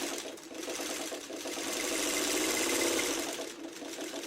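A sewing machine stitches along a fabric edge with a fast, steady mechanical whir and rapid needle chatter, running continuously and close up, rising slightly midway before easing back.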